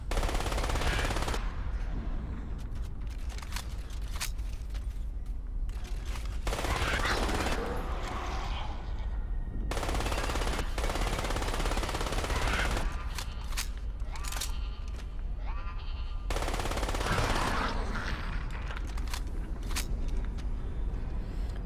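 Enemy gunfire in Crysis comes in repeated bursts of rapid automatic fire, broken by short pauses, over a constant rumbling background of vehicle and battle noise, fairly distant and subdued.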